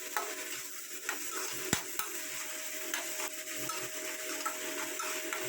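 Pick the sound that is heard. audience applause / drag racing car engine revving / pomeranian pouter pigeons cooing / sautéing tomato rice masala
sautéing tomato rice masala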